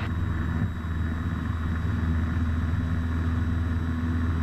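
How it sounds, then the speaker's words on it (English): A Piper PA28 light aircraft's engine runs at takeoff power during its takeoff roll on runway 34, a steady, loud buzzing drone throughout. "Golf Oscar Papa taking off runway 34."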